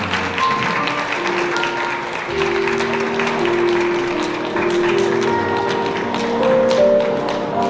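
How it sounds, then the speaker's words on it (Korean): Wedding guests at a hotel ceremony in Songdo applaud steadily, a dense patter of many hands clapping that continues at an even level over background music. "큰 박수 부탁드립니다."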